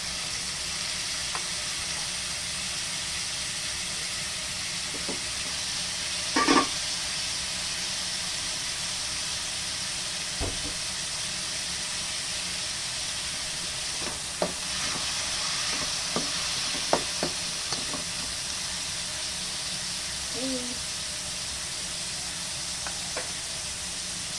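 Meat is stirred into a mung bean dish cooking in a pot, giving a low, constant simmering sizzle and hiss with occasional scattered clinks and scrapes of the utensil, without voices.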